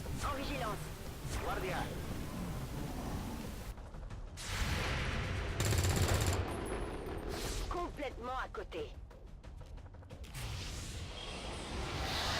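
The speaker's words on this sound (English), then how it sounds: "Dave continues our theme of every Overwatch shot missing" Overwatch gunfire in the video game XCOM 2 comes as sharp bursts with mechanical creaks and clatter, mixed with game sound effects, while a person talks.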